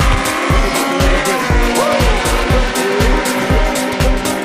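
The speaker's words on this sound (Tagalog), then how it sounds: "yan ang larong drag racing." Drag race car at full throttle with a rapid, rhythmic pulsing engine and tire squeal, loud and close, with a constant roar and regular beats through the whole stretch.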